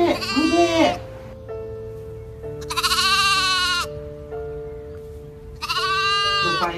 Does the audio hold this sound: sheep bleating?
yes